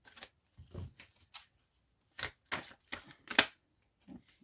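Tarot cards drawn one by one from a deck, a series of short, close papery flicks and slides separated by pauses, with one sharper snap near the end and no voice.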